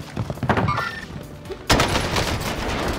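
Gunfire in the video game Warzone: scattered thumps and shots at first, then a sudden loud, dense fusillade of close automatic fire that carries on to the end.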